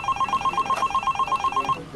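A telephone bell rings in a rapid, steady trill of repeated strikes for about two seconds, loud and close, during a Star Wars themed comedy morning show, with no talking over it.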